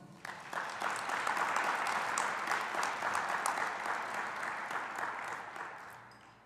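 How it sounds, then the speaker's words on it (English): Graduation audience at a community college ceremony breaks into sustained applause, dense overlapping clapping that swells quickly and holds steady for several seconds before gradually thinning toward the end. "Please give him a round of applause."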